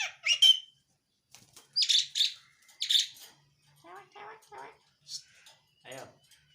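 A tame myna bird gives sharp chirps, squawks and warbling calls in short, scattered bursts close by, with a voice speaking at moments between them.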